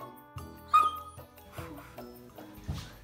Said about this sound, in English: Is that not your dog?